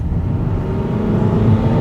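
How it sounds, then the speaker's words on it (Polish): Opel Zafira 1.9 CDTi diesel from 2009 with an automatic gearbox, floored into kickdown: a steady, loud engine drone with a low rumble that rises slightly as the car accelerates, heard from inside the cabin with no talk. "jeżeli depniemy go w podłogę, czyli damy kickdowna,"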